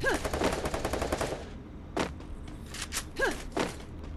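Repeated machine gun bursts from the Free Fire battle royale game, rapid and loud at first, then scattered single heavier shots and short bursts, with no speech over them.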